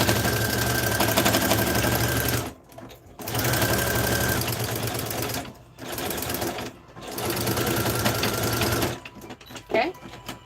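A sewing machine zigzag-stitches close to the edge of joined denim and flannel in bursts of fast, steady whirring, stopping briefly between runs, with a small snip near the end.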